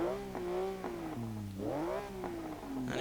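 A 2015 Porsche Cayman GTS's 3.5-litre flat-six, a 340-horsepower engine in the Forza Motorsport 6 racing game, revs up and drops back several times in a smooth, loud, steady series of rising and falling engine notes.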